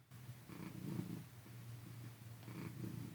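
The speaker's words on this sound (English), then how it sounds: "All they're going to hear is you purring in the background." A cat purrs steadily and close up, a soft continuous rumble with gentle rhythmic swells of breath, heard alone in a quiet room.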